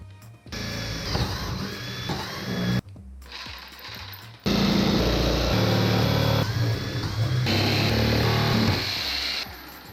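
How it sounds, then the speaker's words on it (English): Loud power tools whir and buzz up close as a cabinet is cut open in a garage, a cordless drill spinning in bursts, then a jigsaw rattling steadily as it cuts, with brief pauses between runs. "cut that out with my cordless drill and jigsaw"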